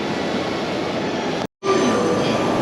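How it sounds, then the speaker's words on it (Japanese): A JR Takasaki Line train bound for Takasaki pulls into a station platform with a loud, steady rolling rumble, broken by a brief dropout before the noise resumes. "こちらのホームにちょうど、高崎行きの電車が入線してきます"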